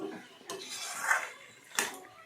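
Vegetables with soy sauce are stirred in a pan on a home stove, a spoon scraping and clinking against the metal in several quick, close strokes with short pauses between.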